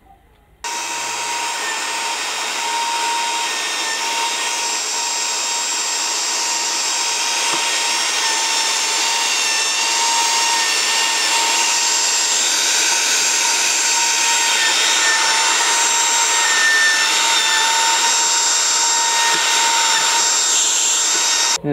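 A Makita plunge router runs steadily for about twenty seconds with a vacuum dust extractor attached, giving a loud, continuous high-pitched whine and hiss from start to finish.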